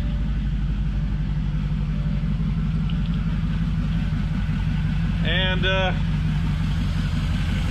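A Porsche Cayenne S with a replaced V8 engine and no exhaust fitted idles steadily with a low, even rumble after starting, while a voice briefly speaks over it.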